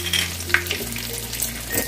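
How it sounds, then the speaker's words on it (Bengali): A bay leaf and whole garam masala (cardamom, cinnamon, cloves) fry in hot oil for shahi paneer, a steady close sizzle with a faint utensil tap. "এবারে আমি তেলের মধ্যে একটা তেজপাতা দিয়ে দিলাম, আর দিয়ে দিলাম গোটা গরম মশলা"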